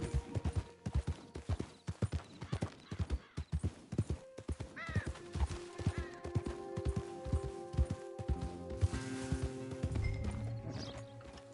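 Rhythmic clip-clop of horse hooves trotting, followed by a horse whinnying amid layered game music and ambient tones, in Red Dead Online.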